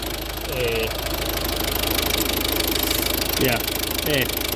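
Ford Focus engine idling close by with a slight misfire around 1,500 RPM, a steady mechanical drone with an uneven knocking beat, under someone talking at intervals.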